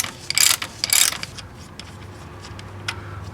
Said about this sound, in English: then we get our socket and ratchet, and just twist these in opposite directions